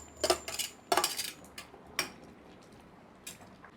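A utensil stirs jaggery in a pot while making ada pradhaman for Onam, producing a few sharp metallic clinks and scrapes in quick bursts, then sparser taps, fairly quiet with no talking.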